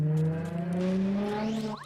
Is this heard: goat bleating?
no